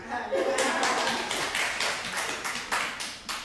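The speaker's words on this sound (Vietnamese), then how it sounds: "Vỗ tay đi." An audience at a Buddhist sutra lecture claps hands in a series of loud, uneven bursts that swell and fade, with some chuckling and a voice at the start.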